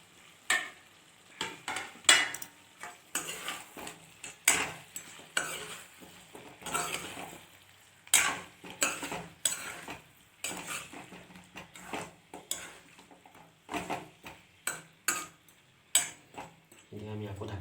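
Pumpkin pieces stirred in hot oil in a pot for a duck meat curry, with a soft sizzle under repeated sharp scrapes and clinks of a metal spoon against the pan, coming in irregular bursts at close range.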